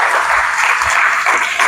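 A short burst of steady applause from an audience at a lecture on physical activity and mental health, loud and close, with no speech over it.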